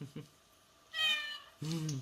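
A cat meows twice, two short rising-and-falling calls close by, with a quiet pause between them.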